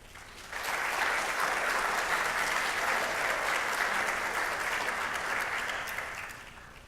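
An audience bursts into sustained applause to welcome a professor onto the stage at a public lecture on fighting Zika and other emerging viruses, the clapping steady and full before tapering off.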